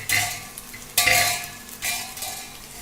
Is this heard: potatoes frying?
yes